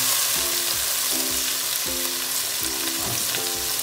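Tomatoes sautéing in a pan for a Filipino mussel soup, a steady loud sizzle and frying hiss with repeated scraping stirs of a utensil against the pan, close up with no talking.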